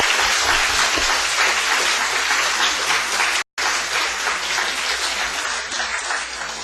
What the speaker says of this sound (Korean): 우리 수고하고 또 섬겨주셨던 서로를 위해서 격려의 박수 한번 하시겠습니다